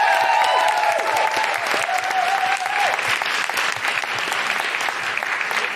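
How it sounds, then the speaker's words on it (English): Loud, continuous crowd applause from a live podcast audience, dense and even throughout, with a few brief whistles or cheers near the start. "Big round of applause for India Rakusen,"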